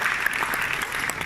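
Audience applause at a French culinary awards ceremony for young chefs, a steady dense clatter of many hands clapping throughout, fairly close and continuous.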